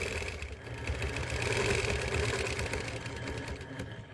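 A sewing machine runs a line of stitches along a quilting ruler to make a bird bracket chain block. It gives a continuous mechanical whir with a rapid pulsing rhythm at moderate volume, and no one speaks.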